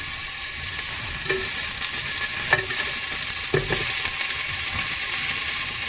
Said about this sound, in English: Then we're going to add in some frozen sliced red onion.